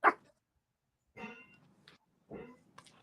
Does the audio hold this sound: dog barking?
yes